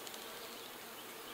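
A dense, steady insect buzz of honey bees fills the whole moment, like many bees droning close by without a break.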